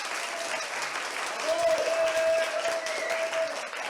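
A dense burst of clapping from an audience at a farmers' charity evening rises after a second and holds steady for a few seconds, loud and continuous as the applause is measured by a meter.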